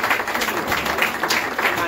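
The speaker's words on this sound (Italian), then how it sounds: "E ci vuole un applauso per me." Audience applause at an Italian book presentation in a bookshop, a dense steady wash of many hands clapping for about two seconds at fairly even loudness, with voices mixed in.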